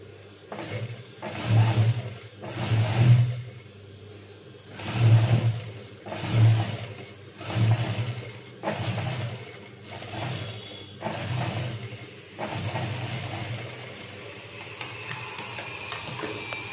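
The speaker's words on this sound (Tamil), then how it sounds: "ஸோ நம்ம ரெண்டு ஃப்ரண்டையும் ஜாயின் பண்ணி தையல் போட்டோம்" Sewing machine stitching elastic pants, running in repeated bursts of mechanical whirring separated by short pauses, then a steadier, quieter hum toward the end, close and fairly loud with no talking.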